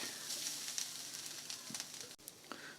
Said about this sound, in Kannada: ಅದೇ ಬಂಡ್ಲೆಗೆ ಕಾಯಿ ತುರಿ ಹಾಕೋತಾ ಇದ್ದೀನಿ